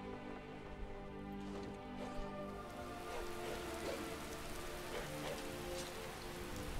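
Rain patters steadily in Skyrim, played with the Skyrim Together and Paraglider mods, a soft continuous wash of drops on surfaces with a few faint thuds and a low tonal game hum underneath.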